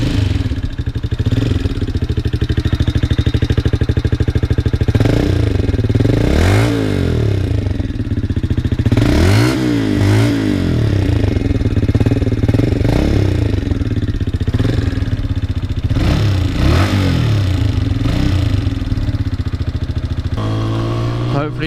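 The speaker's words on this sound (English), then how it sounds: "this is the sound with the baffle out" A motorcycle with its exhaust baffle removed runs loud and close, a deep continuous rumble with repeated throttle blips rising and falling in pitch throughout.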